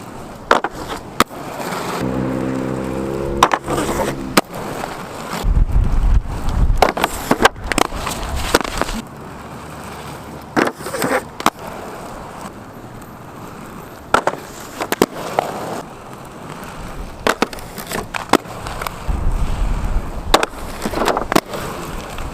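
Aggressive inline skates on a practice rail, with repeated scraping grinds and sharp clacks of landings and impacts spread across a long stretch, close and loud, with quieter pauses between tries.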